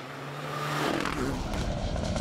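Group A Mitsubishi rally car on a forest stage, a loud engine roar that rises as the car passes close, with gravel scraping and a rough, sustained rasp afterward.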